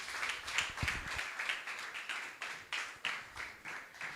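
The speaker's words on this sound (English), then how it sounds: "please let's give her a warm round of applause" A room audience at a book launch gives scattered, fairly faint applause after a talk, a loose patter of clapping hands heard from a distance with no voices over it.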